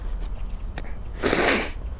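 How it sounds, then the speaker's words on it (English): One sharp sneeze bursts out up close after a quick sniff, standing out clearly against a quiet outdoor background. "sneezed"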